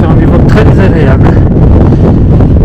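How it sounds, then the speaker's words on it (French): Strong wind buffets the microphone while bivouacking in the Pyrenees mountains near Belagua, a loud, constant roaring gust noise with no pauses. "Et vous entendez, il y a pas mal de vent."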